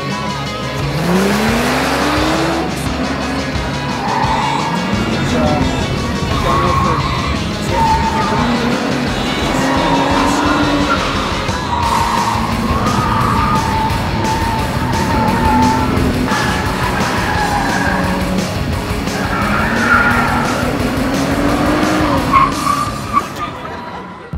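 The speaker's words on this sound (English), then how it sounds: "Today at both exercises, you will be asked to do an emergency brake test." Car tires squeal and skid during an emergency brake test on a track, a long loud continuous screech with engine roar, and shifting pitch that swells and fades over the run.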